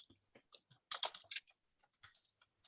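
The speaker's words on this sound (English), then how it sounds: "Sound of my fingers trying to find keys." Fingers tap out short, hesitant bursts of keystrokes on a computer keyboard, close and quiet, with uneven pauses as keys are hunted for.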